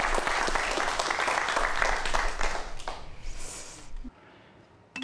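An audience at a lecture on the third circulatory system breaks into steady applause that holds for about four seconds and then fades away.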